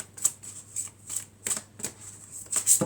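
Oracle cards being shuffled and handled, with soft riffling and slapping bursts at irregular intervals over about three seconds, close and quiet, no talk.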